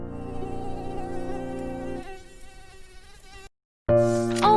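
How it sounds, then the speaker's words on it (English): A mosquito flying past, giving a thin, high, continuous buzzing whine that holds steady, then drops out briefly before returning loud and close. "Then a mosquito flies by, making a buzzing sound."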